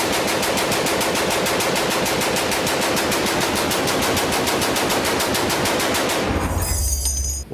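A pre-1986 legal automatic machine gun fires one long, loud, sustained burst of rapid, evenly spaced shots, then stops abruptly into ringing quiet.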